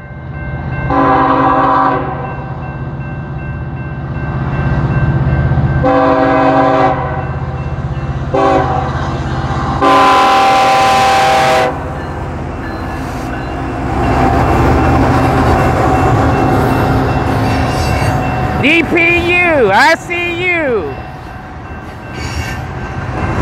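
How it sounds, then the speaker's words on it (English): A CSX coal train rolls past the Union Pacific depot in Lawrence, Kansas, close and loud, with repeated horn blasts early on, steady heavy rumble and clatter throughout, and brief wheel squeals near the end. "Right behind the UP, got a CSX, another coal train."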